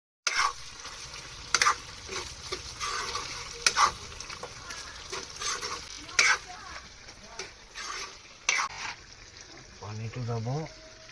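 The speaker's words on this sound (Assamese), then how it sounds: "এতিয়া এইটো মিক্স কৰিম আৰু ভাজিম" Mutton is mixed and fried with spices in a wok over a low flame: repeated stirring scrapes and clacks ring over a constant sizzle, and a voice speaks briefly near the end.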